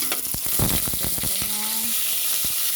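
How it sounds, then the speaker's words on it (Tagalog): Onion and garlic sautéing in a pan for Filipino chicken-liver chop suey, a steady close sizzle with a few sharp clinks of stirring against the pan, no talk. "Isa tayo ng sibuyas, saka bawang."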